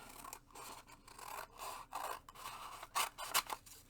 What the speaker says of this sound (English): Cut these apart.